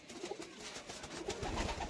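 Pigeons kept by a fancier coo softly and repeatedly at close range against a low background murmur, with no talk over them.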